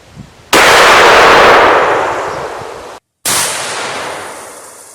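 A 20 gauge GForce Filthy Pheasant shotgun fires twice outdoors at a target, each blast very loud and close with a long fading tail, the second shot following about three seconds after the first.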